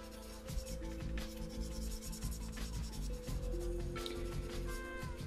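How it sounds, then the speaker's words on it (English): A cotton bud is rubbed back and forth to burnish down a masking tape edge on a 1/72 scale model plane fuselage. Soft, continuous, close scratchy rubbing plays over a low steady hum, with no talking. "Now I'm just going to burnish it down just using cotton bud."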